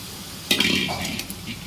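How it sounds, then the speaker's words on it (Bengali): Boiled peas and potatoes, seasoned with salt and turmeric, are tipped into hot spiced oil in a pan for ghugni. A sudden clatter and soft sizzle start partway through, followed by light scraping and stirring, fairly close. "এবারে নুন হলুদ দিয়ে সেদ্ধ করে রাখা মটর আর আলু দিয়ে দিচ্ছি"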